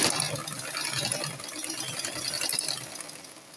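A sewing machine stitching fabric for an Agbada bubu gown runs in a quick mechanical rattle for a few seconds, close and fairly steady, with no talking.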